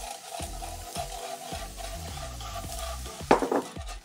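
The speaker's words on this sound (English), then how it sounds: "Stir in the cornstarch." A spoon stirs cornstarch into gravy made from the drippings of fried meatballs in a frying pan. It makes soft, rhythmic scraping strokes against the pan over a faint sizzle, ending with a louder clink of utensil on metal.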